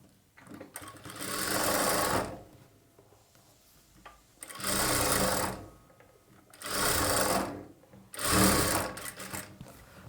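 A sewing machine stitches plain blouse fabric in four separate bursts, each a couple of seconds of fast, steady whirring with short quiet pauses between them.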